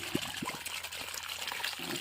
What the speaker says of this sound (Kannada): ನೀರು ಬರ್ತಾಯಿದೆ, ಫ್ರೆಶ್ ನೀರು ಬರಬೇಕು, ಆಮೇಲೆ ಬಂದ್ ಮಾಡ್ಬೋದು